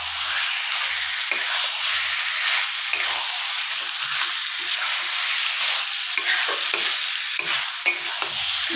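Chicken frying in a pan for a chicken gravy, a steady, close hiss of sizzling oil with occasional soft clicks and scrapes of stirring, continuous with no talking.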